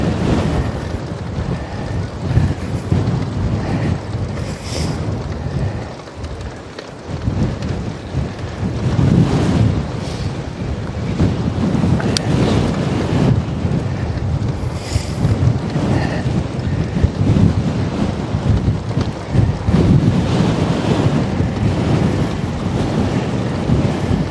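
Strong wind gusts buffeting the microphone outdoors near grazing cows, a loud roaring rush that swells and eases in waves throughout.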